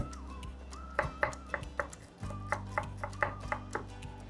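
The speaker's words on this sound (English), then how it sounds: "I'm gonna smash the garlic first. Then cut it." A knife chops smashed garlic on a cutting board in a home kitchen, with about a dozen sharp, evenly spaced knocks in quick rhythm, close and clear above a low kitchen hum.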